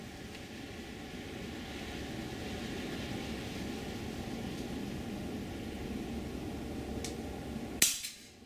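A single sharp crack from an FX Royale .22 air rifle fired in cold weather lands near the end, preceded by a faint click, against a steady background hiss.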